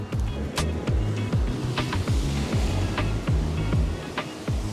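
Sea waves washing over a shore, a loud, steady rushing surf with a low, throbbing rumble repeating beneath it, no talking.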